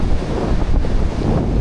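Strong wind buffets the microphone on the Latvian seaside coast during a bicycle trip, a loud, gusty low rumble with surf-like swells and no talking.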